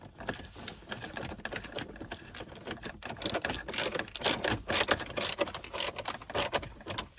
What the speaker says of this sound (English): I'll put it into the hole and just start tightening.